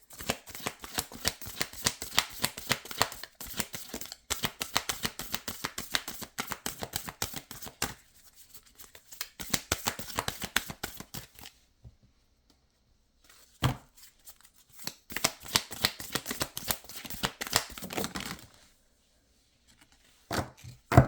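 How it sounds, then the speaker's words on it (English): Oracle cards from the Blue Angel Oracle deck shuffled by hand, with rapid riffling bursts in several runs separated by short pauses, close and crisp with no talking. "I'm just going to pull one of these cards for you"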